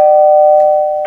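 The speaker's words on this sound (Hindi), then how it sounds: "मैं और एक बार घंटी बजा रहा हूँ" A single electric doorbell rings loud and close as one sustained tone that slowly fades, with faint background noise behind it.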